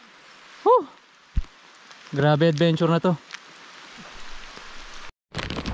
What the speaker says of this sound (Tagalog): Kasi medyo lumalakas yung ulan.